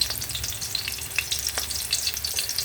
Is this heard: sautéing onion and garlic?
yes